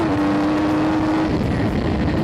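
A race car at full throttle on a circuit, its engine a loud, steady roar with a sustained tone that drops away after about a second as the driver lifts off into braking.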